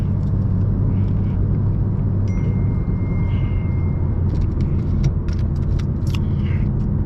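Stage 2 BMW F82 M4 with about 600 hp on the road, its engine a steady, loud, dense low rumble and drone from start to finish, with faint rattles and clicks over it.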